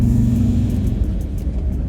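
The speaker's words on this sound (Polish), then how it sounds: "Już od tych 2000 zaczynam turbinka ciągnąć i auto naprawdę fajnie idzie" A Volkswagen T4 Multivan's turbo diesel engine drones and rumbles steadily from inside while accelerating, a low heavy hum holding under the cabin with little change in pitch.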